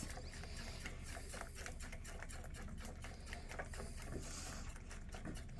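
Cobbler batter mixture for a double-crusted blackberry cobbler being whisked in a bowl, a fast, steady, busy scraping and clicking that runs without pause the whole time.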